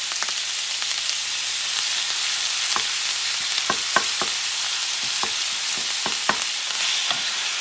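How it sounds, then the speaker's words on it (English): Beef chorizo and ground beef sizzle steadily in a hot pan, with a constant frying hiss broken by sharp scrapes and taps of a utensil stirring, close and clear with no talking. "I'm going to be cooking this meat first until we get a little bit cooked"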